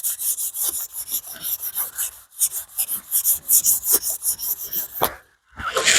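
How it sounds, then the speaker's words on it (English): A brake caliper from an E30 brake system being wet sanded by hand with 800-grit sandpaper and brake cleaner, making close, rhythmic back-and-forth rasping strokes with a brief pause near the end. "take a piece of 800 and a little bit of brake clean and just wet sand it"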